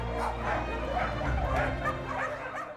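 Several dogs at a dog rescue shelter bark, yip and whimper in quick overlapping bursts, close and fairly loud, with a faint voice underneath.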